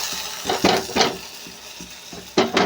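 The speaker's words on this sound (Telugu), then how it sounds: "ఇప్పుడు ఈ తాలింపుని అయితే ఉడుకుతున్న పప్పులు అయితే వేసేసుకుందామండి" Hot oil crackles and sizzles in bursts as tempering hits a pot of boiling lentils with drumstick leaves, with stirring scrapes and a few louder splashes, close by and without talk.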